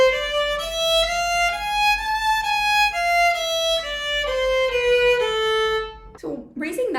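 A violin plays a harmonic minor scale of sustained single notes stepping up and then back down, clear and solo, with a short voice at the end.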